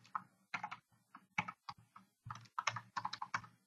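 Someone types the word Facebook on a computer keyboard, a quick close run of clicky keystrokes in short bursts with brief pauses and no other sound.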